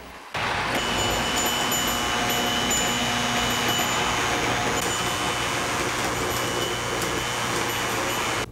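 A Lionel model toy train runs on its track with a continuous whirring motor hum and steady rolling rumble, starting abruptly and holding an even level.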